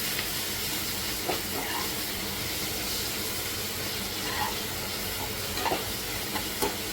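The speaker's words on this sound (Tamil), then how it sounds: "தக்காளியை நல்லா மசிச்சு விட்டுக்குங்க, நல்லா வதங்கட்டும்." Tomatoes sautéing in a pan for a Sankara fish curry, a continuous soft sizzle and hiss with occasional light stirring scrapes, close and steady, with no talking.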